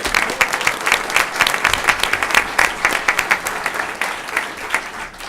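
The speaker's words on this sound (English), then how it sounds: "I'm going to just say a round of applause for her." A room full of people clapping steadily for several seconds at a school board meeting, warm dense applause that holds and then thins slightly toward the end.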